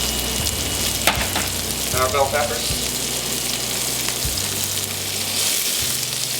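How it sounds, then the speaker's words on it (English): Celery and bell peppers sizzle and fry steadily in a hot pan, a continuous crackling hiss with brief stirring noises, while someone talks briefly over the cooking. "we're going to put our mise en place into the frying pan and get it rolling right now"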